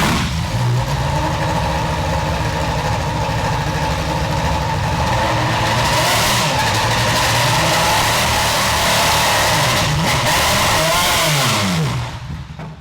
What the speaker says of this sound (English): the engine's firing on all cylinders